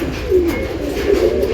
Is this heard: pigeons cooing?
yes